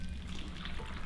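Water is poured into a pot of crushed juicy apples, a steady soft splashing pour lasting the whole moment, fairly quiet and unbroken, with no voices.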